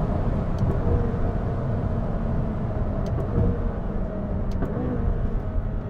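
A $250,000 McLaren supercar accelerates hard down a track straightaway, its engine a steady dense roar heard from inside the cabin, continuous and fairly loud throughout without speech.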